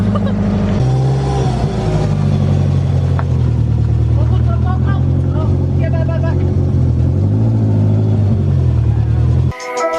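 A car engine idles smoothly after an idle fix, a steady low rumble held close and even with no throttle, while someone talks over it before a sharp cut near the end.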